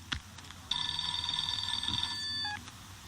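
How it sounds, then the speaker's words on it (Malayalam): An electronic telephone rings nearby with a steady warbling tone lasting about two seconds, heard indoors against low background noise. "Sir sir phone."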